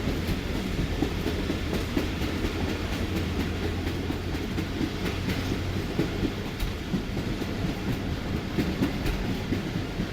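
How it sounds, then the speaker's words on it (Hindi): Karakoram Express passenger train slowing near Sheikhupura in winter, heard from inside with a steady low rumble and rhythmic wheel clatter on the rails, continuous and fairly loud throughout, with no talking. "यहाँ पे आप देख सकते हैं कि स्पीड काफ़ी हद तक टूट चुकी है ट्रेन की"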